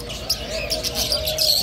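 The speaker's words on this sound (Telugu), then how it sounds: "పక్షులు" Birds for sale at an animal market in Kuwait, chirping and tweeting in quick bright bursts over a low crowd murmur.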